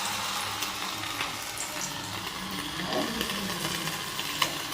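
Battered amudi fish sizzle in hot oil in a pan on low heat, a steady close crackling hiss with occasional pops and spatters, no talking.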